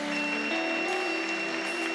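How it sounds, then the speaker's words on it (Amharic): A worship congregation claps and ululates in praise, a dense, steady wash of applause and high trilling voices layered over sustained tones, with no break across the moment. "ክብር እልልታ ይገባል ጭብጨባ ይገባል"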